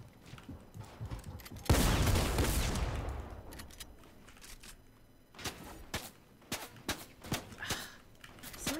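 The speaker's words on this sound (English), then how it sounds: "Someone's shooting at me from the other Shake house." Bursts of gunfire in Fortnite, a loud close volley followed by scattered sharp shots and footsteps in a hectic battle around a house.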